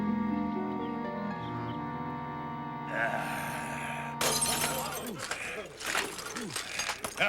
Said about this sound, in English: Buy yourself some stronger glass, Ripple.